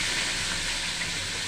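Onions dropped into hot tempering oil with popped mustard seeds and garlic, cooking for soraikkai kootu, give a steady, loud broadband hiss and sizzle that holds evenly throughout with no talking.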